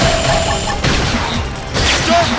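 Special shooting attack in the Xenoblade Chronicles X Definitive Edition video game, a loud dense burst of blasts and crashing impacts layered over busy battle noise.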